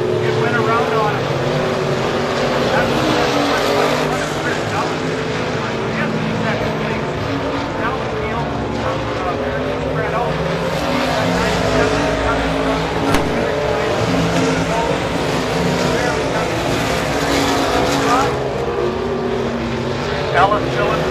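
IMCA stock cars race around a dirt speedway, their engines roaring loudly and continuously with passing swells, under an announcer's voice calling the race.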